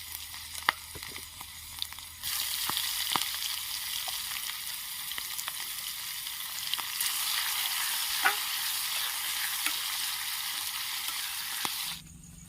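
Onions fry in a pan at a rainy solo campsite, a steady bright sizzle that swells after a couple of seconds and holds, with occasional stirring clicks before it cuts off near the end.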